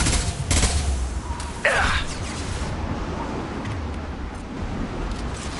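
Burst of gunfire from a high-impact weapon during a Mass Effect firefight, loud and dense over constant rumbling battle noise, with a sharp whizzing streak partway through and a faint voice in the mix.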